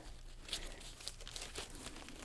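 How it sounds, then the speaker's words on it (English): Soft crinkling of a thin plastic bag handled up close with gloved hands while bagging a caladium bulb, with scattered faint crackles over a low, even background hiss. "I'm just going to put it in this little plastic bag."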